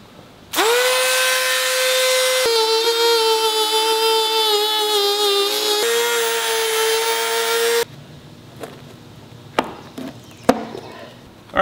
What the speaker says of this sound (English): we have to break out the trusty Dremel and cut this out of here